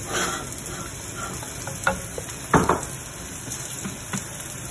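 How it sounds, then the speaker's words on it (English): Italian chopped tomatoes tipped into a pan of cooked onions hiss with a steady, soft sizzle, punctuated by a few sharp scrapes and clinks of a utensil against the pan. "I will put the Italian chopped tomatoes in this."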